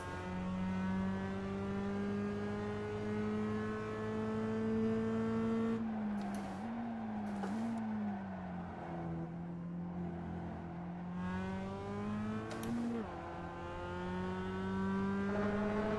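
A Mazda race car engine in the iRacing sim at Zolder whines steadily at high revs, dips through downshifts and braking, then climbs again as it accelerates. The engine is continuous and fairly quiet.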